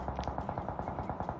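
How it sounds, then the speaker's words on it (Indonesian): Automatic gunfire in the mobile battle royale game PUBG Mobile fires in a rapid, even stream of shots, fairly faint and distant-sounding, with no voices over it. "Oh, ada tembakan, Jack."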